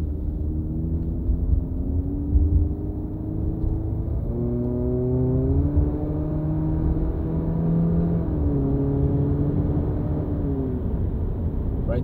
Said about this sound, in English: I was just stepping on it. I'm about 46 miles right now and you guys can honestly barely hear the exhaust.